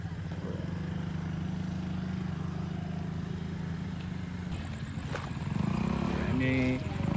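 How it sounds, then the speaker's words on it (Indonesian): A CC 205 diesel locomotive idles steadily at close range, its deep engine drone constant and loud, swelling slightly toward the end with some faint clanks over the top. "lokomotif CC 205 ya. Gak tahu itu lagi ngapain, kayak lagi manasin ya."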